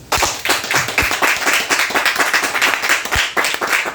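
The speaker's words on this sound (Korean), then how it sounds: "우리 두 분 멋진 삶을 살아오신 두 분 회장님께 박수 한번 주시죠" An audience at a speech event claps for two chairmen, a lively, loud burst of many hands clapping with a quick, uneven rhythm that stays strong for the full few seconds.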